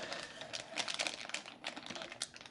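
A plastic bag holding a handheld radio antenna crinkles and rustles close by in short, crackly handling bursts without any talking.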